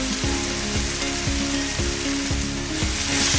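Curry leaves dropped into hot oil for a squid roast crackle and sizzle loudly up close, a dense continuous fry with rhythmic scraping strokes repeating under it.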